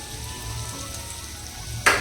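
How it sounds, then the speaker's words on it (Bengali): Slices of bitter gourd, pumpkin and eggplant fry in hot oil with a steady, close sizzle and crackle, ending in a sharp burst of spitting near the end. "এইখানটায় ভাজছি উচ্ছে কুমড়ো ভাজা"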